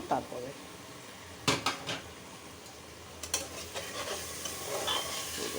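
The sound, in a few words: moong dal being sautéed and stirred in a pot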